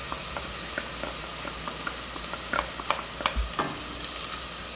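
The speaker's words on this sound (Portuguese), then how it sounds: "Aqui na parte da nossa lula a gente vai colocar o alho." Garlic sizzles in a hot pan with squid, a steady frying hiss with occasional stirring scrapes and taps from a utensil, close and continuous without talk.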